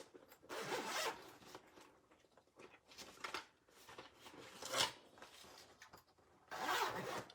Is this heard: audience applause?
no